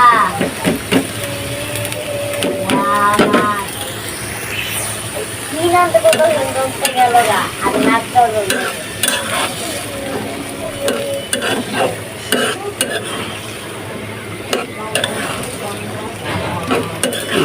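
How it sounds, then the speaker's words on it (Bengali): Spices being fried and stirred in a pan on a stove while chickpeas are cooked for an afternoon snack, with a sizzling hiss and scraping spoon strokes, interrupted now and then by a nearby voice talking. "চুলার উপরে নাস্তা বানাইতে দিয়ে মশলা কষায় নিচ্ছি"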